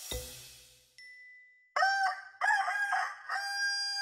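Rooster crowing in several clear, loud bursts after a brief opening rustle and a short tone, close by and heard alone with no talking.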